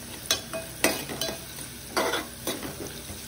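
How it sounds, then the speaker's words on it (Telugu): Onions, mustard seeds and cumin fry in hot oil while a spoon scrapes and stirs the pan, giving a soft steady sizzle broken by several sharp metallic stirring strokes, close up with no talking. "ఆవాలు జీలకర్ర కూడా వేసుకోవాలి. వేసుకొని మంచిగా ఫ్రై చేసుకోవాలి."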